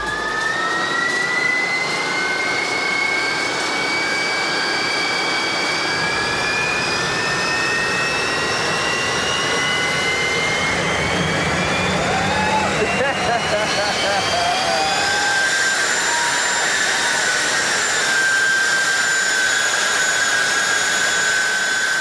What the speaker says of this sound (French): C'est à Jerry, le vétéran des Jet Cars, que revient l'honneur de démarrer le Monster pour la première fois